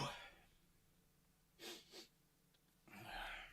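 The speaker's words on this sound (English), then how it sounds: "I'm going to sneeze again." A person sneezes in a quiet room. A sharp, breathy burst is followed by short snorting breaths, and then a louder exhale trails off at the end.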